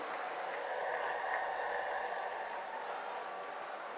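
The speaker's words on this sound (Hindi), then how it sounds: "हाथ उठाकर तालियों की गड़गड़ाहट के बीच हमारे यशस्वी प्रधानमंत्री का हार्दिक अभिनंदन" Steady, sustained applause from a large political rally crowd in Lucknow welcoming the Prime Minister, a dense, even wash of clapping that holds for several seconds with no talk over it.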